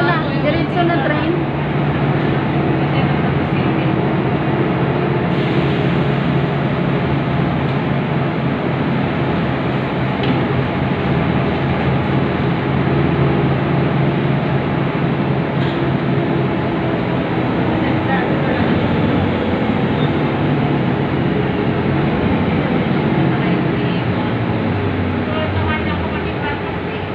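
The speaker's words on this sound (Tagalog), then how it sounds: "Train na, diretso na. Diretso na train." A train rumbles past with a loud, continuous roar and rattle, heard close and steady throughout.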